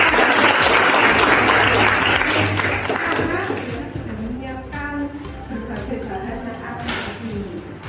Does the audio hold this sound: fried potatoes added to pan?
no